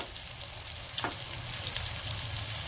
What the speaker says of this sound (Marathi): आता आपण खालून कशी खालची बाजू ना चांगली फ्राय झाली का बघून घेऊ